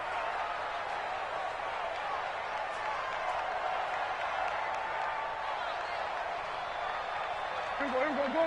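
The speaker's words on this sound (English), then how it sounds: "The crowd getting into it as we come up on a big 3rd down." A PS4 football game crowd roars and cheers continuously ahead of a big third down, a broad steady wash of noise under commentary.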